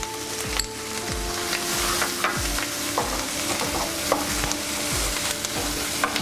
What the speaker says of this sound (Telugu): ఇవి మంచిగా ఫ్రై చేసుకుందాం మనం.